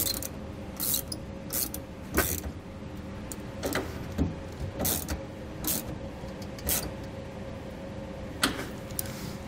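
Nuts are snugged down with a ratchet while a circuit breaker is mounted to a surface, making repeated quick ratcheting clicks in short bursts, close and fairly loud, with pauses between them.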